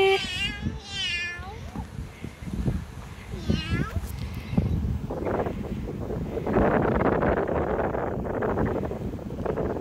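A cat meows in a park, two short wavering meows early on, heard through gusty wind noise while a person talks nearby and calls to it.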